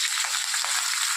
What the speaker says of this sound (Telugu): కరివేపాకు సౌండ్